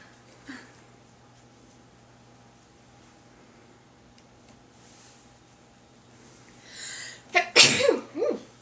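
One loud, close human sneeze bursts out at the end after a long quiet stretch with a faint steady hum.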